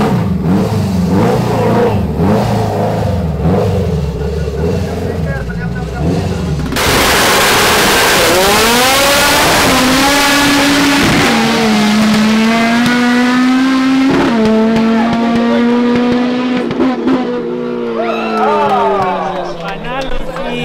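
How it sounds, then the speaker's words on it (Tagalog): A loud naturally aspirated K24-engined race car revs hard and climbs through gears, a sustained rising roar with crowd noise and voices around it. "Here's the GTB team with a K24 all motor."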